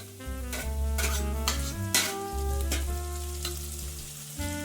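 Biryani masala with ghee sautéing in a pan for mutton biryani, a steady close sizzle with scraping spoon strokes and a few sharp clinks against the pan, continuous throughout.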